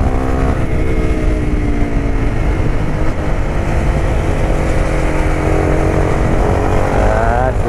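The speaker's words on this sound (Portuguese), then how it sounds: "A moto não tem aquele motor que nós está acostumado, mas assusta" A loud, close Honda CBR 250 R motorcycle engine with an Akrapovic exhaust roars continuously, its pitch rising and falling as it revs and accelerates.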